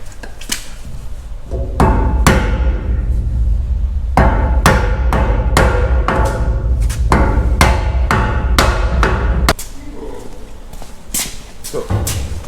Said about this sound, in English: I've been hammering but it won't move.